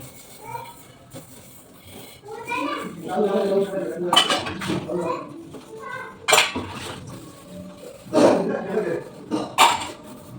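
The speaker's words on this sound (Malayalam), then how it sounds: "എനിക്ക് ഇഷ്ടമില്ലാത്തൊരു ജോലിയാണ് പാത്രം കഴുകൽ." Dishes, pots and utensils are washed, with bursts of clattering and clanking metal that come and go over a quiet background, and a voice can be heard briefly among them.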